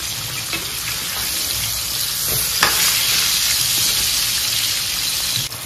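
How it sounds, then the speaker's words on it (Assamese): Coriander frying in a pan gives a steady, close sizzle with crackles and a few stirring scrapes, with no one speaking. "ধুনিয়াকে ফ্ৰাই কৰি আছো"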